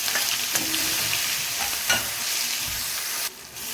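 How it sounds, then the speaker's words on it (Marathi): Mustard seeds and cumin sizzle and crackle in hot oil in a pan, a close, steady frying hiss with small pops and a few stirring scrapes, and no talk. "आपलं तेल चांगलं तापलं आहे त्यात मोहरी घालायची जिरं घालायचं"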